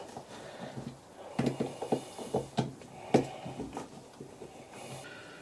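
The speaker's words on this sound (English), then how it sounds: "I'm just going to nip this till I feel it's crushed" Fitting being nipped tight onto a crush washer during a Ford Fiesta 1.0 EcoBoost turbo rebuild, a close, quiet run of small metallic ratchet clicks and taps in an uneven rhythm with no talk.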